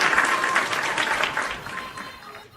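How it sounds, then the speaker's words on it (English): Studio audience applause on a live wrestling talk show, a dense burst of clapping that starts loud and gradually thins and fades over a couple of seconds. "Round of applause."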